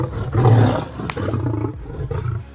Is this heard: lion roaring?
yes